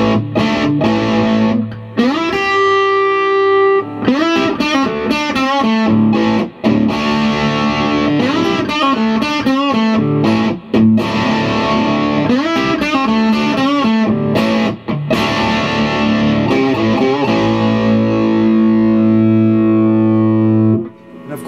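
A distorted electric guitar, a Squier Telecaster through a Peavey Classic 30 tube amp, plays chords and riffs continuously, loud and close, with brief pauses between phrases.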